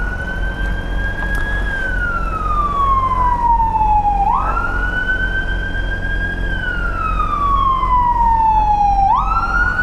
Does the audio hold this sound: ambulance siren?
yes